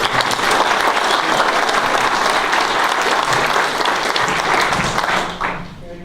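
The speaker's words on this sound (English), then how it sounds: "Give yourself a round of applause." Room full of military veterans giving a sustained round of applause at a talk, thick continuous clapping throughout that thins and fades near the end.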